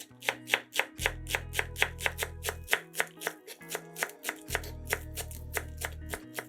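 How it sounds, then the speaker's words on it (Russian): Kitchen knife chopping a small bunch of green onion on a cutting board, quick even strokes in runs, close and crisp, over soft background music. "Измельчаем небольшой пучок зеленого лука."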